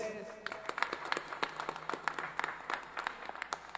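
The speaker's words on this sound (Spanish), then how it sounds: "Que se escuchen esos aplausos más fuertes." Crowd applause at the inauguration of a street-paving project in the Los Chonayes sector of Santa Apolonia: faint, distant scattered clapping with crisp individual claps over a low hum and murmuring voices.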